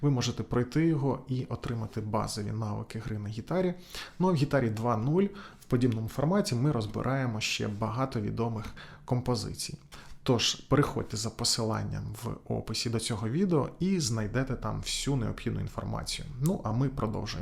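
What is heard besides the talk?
No distinct noise like a dog, phone or traffic.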